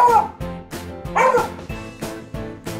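A dog barks excitedly in a quick series of close, loud woofs with a few whiny yips mixed in.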